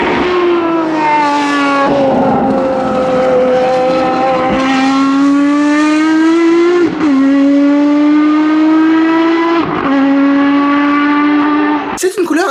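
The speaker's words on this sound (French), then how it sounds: "Il y avait également cette sublime Ferrari FXX noire et verte." Ferrari FXX race car engine on the Spa circuit, a loud close high-pitched wail rising through gears with several sharp shifts, sustained nearly throughout before a brief break.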